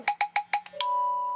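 A phone that has just been switched back on chimes with a rapid burst of notification pings, five or six quick bright tones in a row ending in one sustained ring.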